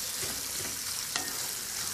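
Ingredients for Persian duck rice frying and being stirred in a hot pan, a constant bright sizzle with a brief scrape of the spoon midway, no speech.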